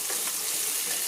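Chopped tomato dropped into onion frying in oil, heard as a loud, steady, broad sizzling hiss with no talk.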